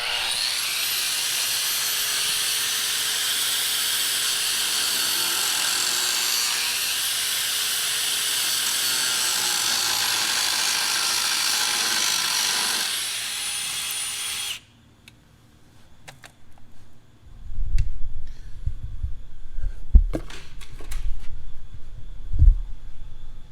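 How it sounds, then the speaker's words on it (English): A power tool bevels and drills a crack in steel before welding. A loud, continuous grinding whine runs for about fourteen seconds and then stops abruptly. Scattered thumps and knocks follow, with no speech. "we got it beveled out real good. I drilled a hole there at the end of the crack to stop the crack."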